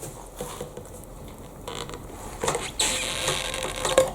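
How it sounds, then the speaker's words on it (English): A Sandrin TCK tungsten carbide knife slices through vinyl piping, giving close, scraping and creaking cuts that build into a louder rasping pass toward the end. "the first material we're going to cut is this vinyl piping"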